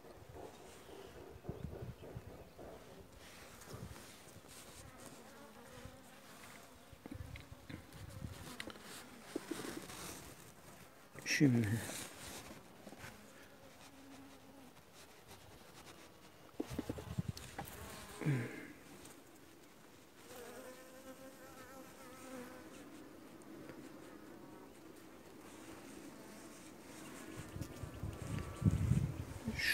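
Honeybees buzz around an open, weak hive during inspection, a soft continuous drone with occasional louder fly-bys close to the microphone, while a person talks quietly in between.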